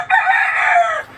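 An Asil rooster crows once, loud and close, a long strained call lasting about a second before cutting off.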